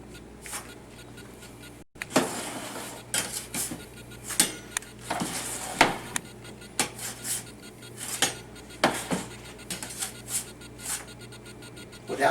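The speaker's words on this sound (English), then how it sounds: "this happens to be a grilling spatula, you got to kind of loosen it up from the pan." Metal grilling spatula scrapes and clinks against a metal pan while loosening a soft baked cookie cake, irregular close scraping and tapping strokes with no talking.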